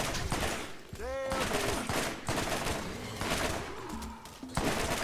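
Rapid bursts of gunfire in the Borderlands shooter game, fired at skags, crackle loud and close across the whole stretch with a whistling rising tone near the start.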